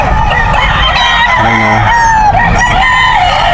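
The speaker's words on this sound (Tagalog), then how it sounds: "Update tayo sa mga manok panabong." Fighting roosters crow repeatedly at the crowded Bocaue pet market, loud and close, with several overlapping crows against a steady din of market crowd noise.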